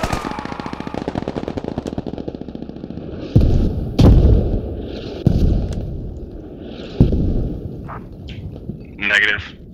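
Mortar shells landing in a combat video game, a string of heavy booming impacts spaced a second or so apart over a rattling backdrop of gunfire, with a voice talking in between.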